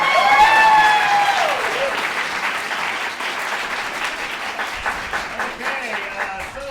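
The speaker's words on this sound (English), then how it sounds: "one more round of applause for everybody" An audience at an improv comedy championship applauds, a dense sustained wash of clapping from a crowd that stays loud for several seconds and gradually thins slightly.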